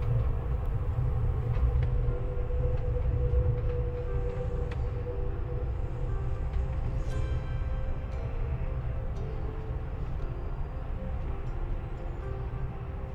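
Amtrak Coast Starlight passenger train rolling through Oregon's Willamette Valley between Eugene and Portland, heard from onboard as a steady, loud low rumble of wheels on rails with faint rattles and clicks, continuous throughout with no talking.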